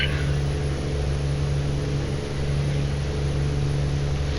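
Steady engine drone of a truck being driven in American Truck Simulator, a constant low hum with road noise that holds at an even level throughout, no voices over it.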